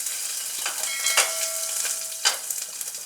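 Mustard seeds and cumin hitting very hot oil on a low flame, with asafoetida and broken garlic cloves: a bright close sizzle with sharp crackling pops and spatters, no voices.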